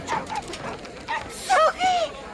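Dogs bark and yelp below decks in a ship's hold aboard the Titanic, short excited yips and whimpers mixed with shouting voices during the evacuation.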